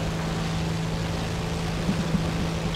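A propeller aircraft engine in a flight combat video game, running with a steady, continuous drone and hum that holds an even level throughout, with no talk over it.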